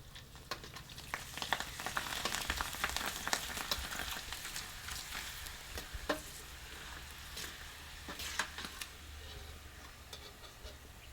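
Bhungla potato snack tubes fry in hot oil, a steady close sizzle with scattered crackles and ticks running throughout, fairly quiet and with no talk.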